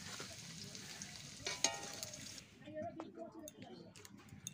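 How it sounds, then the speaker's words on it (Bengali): Potatoes frying in oil in a home kitchen: a steady close hiss of sizzling fat with faint ticks, which drops away partway through to quieter scattered crackles. "আলুগুলো আমার প্রায় ভাজা হয়ে গেছে"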